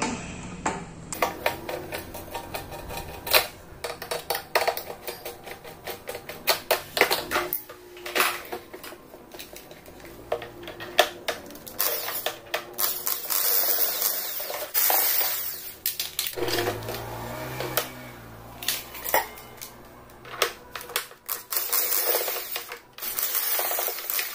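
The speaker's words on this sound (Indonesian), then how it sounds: "kita gunakan obeng" Screws come out of the base of a Yongma digital rice cooker under a screwdriver, with repeated sharp metallic clicks, taps and small clatters scattered through a long, close stretch.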